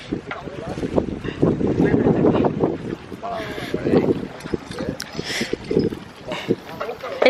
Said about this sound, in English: I can't because the wind. Yeah, it's windy.